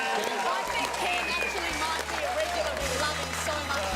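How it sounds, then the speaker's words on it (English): A studio audience at a TV footy show applauds for Ken Hutchison in the crowd, a steady wash of clapping heard throughout alongside a low musical hum. "put your hands together for Ken Hutchison in the crowd"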